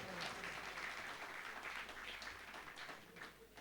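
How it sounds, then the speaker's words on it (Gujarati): Audience applause greeting a Swaminarayan religious discourse in Gujarati, a steady wash of clapping from a seated crowd, moderately distant and continuous throughout. "જોરદાર તાળીઓથી વધાવો"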